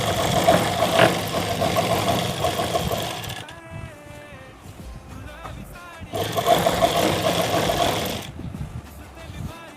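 An electric sewing machine stitches salwar fabric pieces in two loud, whirring bursts separated by a quieter pause, close to the ear.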